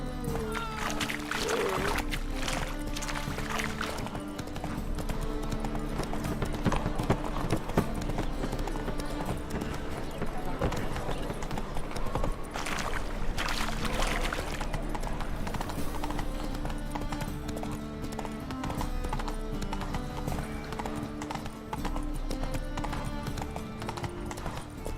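Roach, a horse in the video game The Witcher 3, gallops with a steady, rapid clip-clop of hooves over continuous game music, with faint voice in the background.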